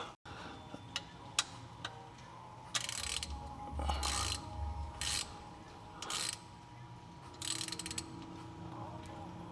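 A ratchet tightens the differential plug on a 2015–2023 Mustang GT S550, producing faint close clicking and rasping strokes in several short bursts against a quiet background.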